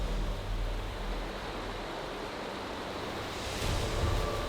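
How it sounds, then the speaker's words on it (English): Fast-moving river water rushing through a steep, slippery Alaskan ravine, a steady broadband roar close by with a swell near the end, no voices. "The water is moving fast."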